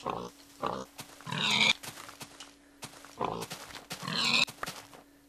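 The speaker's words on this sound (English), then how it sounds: "Pigs! I see pigs! Hello, piggy." Pigs in the video game Minecraft give several short grunting oinks in irregular bursts, close and clear, over a faint steady background tone, with no talk.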